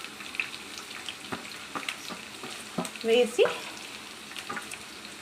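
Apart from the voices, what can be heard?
onions frying in pan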